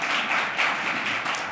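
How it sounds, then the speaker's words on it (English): Audience applause for event staff at a meeting on equitable transit-oriented development, a brief, steady wash of many hands clapping at moderate loudness. "they deserve your applause"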